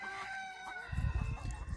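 A rooster about three years old, a breeding cock going through its moult, crows once at close range, and the call ends in a rough, low-pitched tail.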